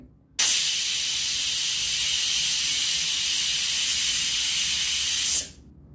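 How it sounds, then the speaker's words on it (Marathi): A pressure cooker cooking whole moong dal lets out a loud, steady hiss of escaping steam through its whistle that starts abruptly, holds for about five seconds, then stops. "तोवर आता कुकरच्या शिट्ट्या होत आहेत"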